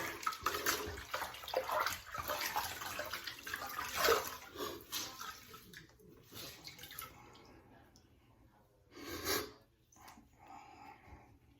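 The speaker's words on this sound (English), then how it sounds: "let's give it a good rinse here." A straight razor rinsed under running water at a sink, splashing and trickling fairly close, louder at first and tapering off, with a brief surge of water near the end.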